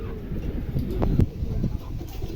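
Pigeons at a wholesale pigeon market give a few soft, close coos in a brief moment.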